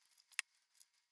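Scissors snipping through fabric around a pinned sewing pattern for a stuffed owl, a few faint, close, crisp cuts in quick succession.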